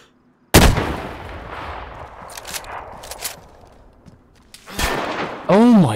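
Two separate gunshots ring out in a video game, each a sharp crack followed by a long echoing tail, with a short rising and falling tonal sweep at the end.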